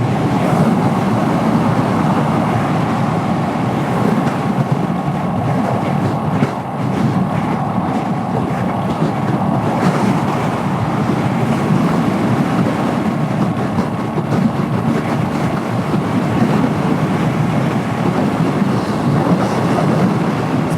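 A Royal Enfield Hunter 350 motorcycle rides along a Texas highway shoulder, its engine a loud, unbroken drone mixed with heavy wind rush for the whole stretch.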